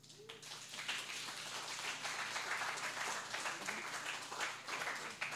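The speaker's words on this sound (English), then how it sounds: "Please give our warmest applause to our speaker, Mr. Albert Khoo." Symposium audience applauds speaker Albert Khoo, a faint, distant, steady patter of many hands clapping in a hall, continuous without talk.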